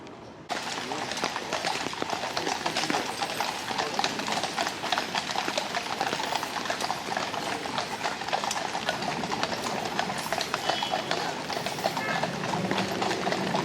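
Horse hooves clip-clopping on a London street, a steady rhythmic clatter heard close and fairly loud throughout, with traffic and city ambience around.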